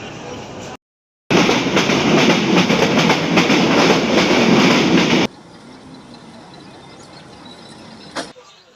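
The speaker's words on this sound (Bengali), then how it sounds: "রংপুর স্টেশন থেকে ট্রেন ছেড়ে দিল" A local train in Bangladesh pulls out of Rangpur station and rolls along the tracks, a loud, close rumble with clattering wheels that drops abruptly to a softer, steady running hum, with a brief sharp click near the end.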